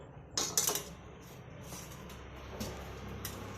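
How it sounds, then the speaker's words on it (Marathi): Metal pots and brass oil lamps are lifted out of boiled cleaning water, giving a brief burst of metallic clinks and clatter early on before a quiet room tone. "आता आपण याच्यामधून भांडी काढून पाहू।"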